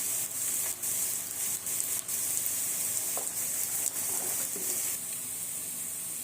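Onion, half-boiled potato and cauliflower sizzle steadily in a pan for a Tamil cauliflower gravy, a constant bright hiss with occasional stirring scrapes, close and without talk.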